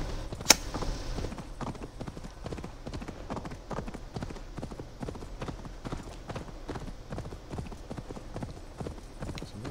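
Steady, rhythmic clip-clop of reindeer hooves trotting along at an even pace, with one sharp click near the start and no talking, in Assassin's Creed Valhalla.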